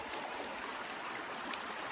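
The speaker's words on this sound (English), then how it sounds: "Sound of running water," Running water from a stream at a gold prospecting site near Yackandandah, a continuous gentle rushing and trickling wash, steady and fairly quiet with no talk.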